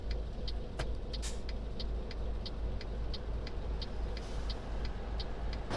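An old Scania truck idles with a low, steady engine drone, accompanied by a regular ticking, likely a turn indicator, clicking about twice a second, with no talking.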